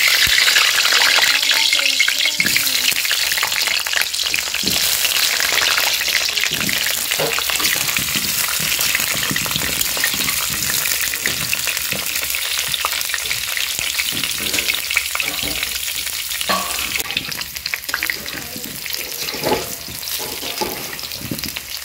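Continuous loud crackling sizzle of potatoes frying in hot oil in a wok, with occasional scraping stirs throughout.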